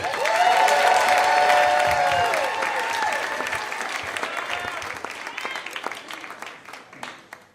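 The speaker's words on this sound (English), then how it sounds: "All the energy you have left, let's hear it for Jon!" Loud, sustained applause and cheering from a storytelling show audience, swelling at first and then slowly tapering off.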